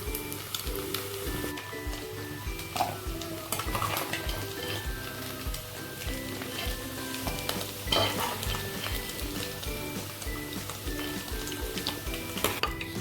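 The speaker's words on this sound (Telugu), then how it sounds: "ఈ విధంగా వీటిని ఫ్రై చేసుకొని పక్కన పెట్టుకోవాలి" Prawns fry in hot oil for gongura prawn curry, a steady close sizzle with frequent stirring and metal clinks of a spoon against the pan, no talking.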